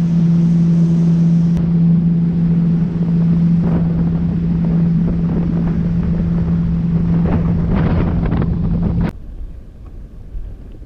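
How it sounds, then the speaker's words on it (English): A jet ski runs down a river with a loud, steady engine drone and rushing water and wind, the motor cutting off abruptly near the end, leaving quieter water sounds. "So we're out on the jet ski and we're down the river."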